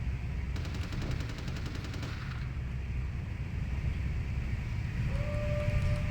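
Rapid bursts of video game gunfire rattle through a steady low rumble, the shots clustered early, then thinning out as a faint tone sounds near the end.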